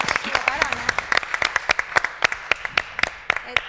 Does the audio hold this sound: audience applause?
yes